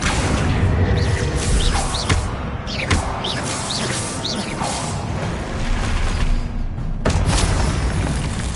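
Hogwarts Legacy spell combat fills the air with dense, continuous magical blasts and rumbling explosions, with whooshing, chirping casting effects rising over the steady roar.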